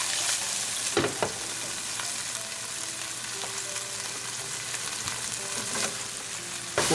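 Garlic sizzles steadily in hot oil in a pan for red lentil dal, a continuous close frying hiss with a few sharp clicks and spatters and no talking.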